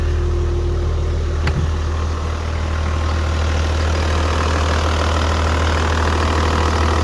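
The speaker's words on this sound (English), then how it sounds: "I just love a diesel. Listen to that engine." A loud diesel engine of a Toyota Land Cruiser 80 Series catches with a brief start-up clunk, then settles into a steady, deep rumbling idle.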